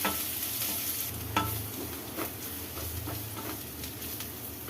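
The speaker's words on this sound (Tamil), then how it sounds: "இப்போ இது எல்லாத்தையும் நல்லா வதக்கிக்கலாம்." Cabbage and egg rice sizzles steadily in a pan while a spoon scrapes and stirs it in repeated strokes, close up and moderately loud.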